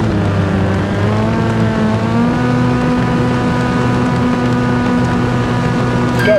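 A VW Polo R rallycross car engine in Dirt Rally 2.0, Barcelona, drones steadily at high revs throughout, its pitch holding nearly constant with a slight rise near the end, loud and close.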